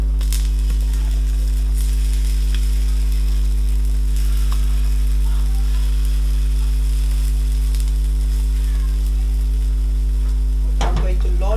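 Egg-free pumpkin fritters frying in a pan of oil give a steady, close sizzle over a constant low electrical hum, with a brief clatter near the end.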